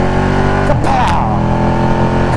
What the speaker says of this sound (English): You guys hear those backfires? When I downshift too, it does it.